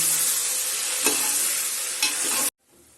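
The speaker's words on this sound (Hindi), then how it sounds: "इसके बाद हम टमाटर गलने तक इसको पकाएंगे।" Tomatoes cook and get stirred in a pan for restaurant-style malai kofta gravy, giving a steady loud sizzle with two brief scraping strokes before it cuts off abruptly near the end.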